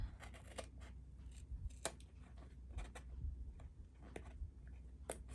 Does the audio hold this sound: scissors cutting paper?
yes